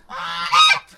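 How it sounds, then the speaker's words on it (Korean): A goose honks once on a mountaintop, near and loud: a single nasal, drawn-out call lasting under a second that rises in strength toward its end, with no talking. "거위 아니야?"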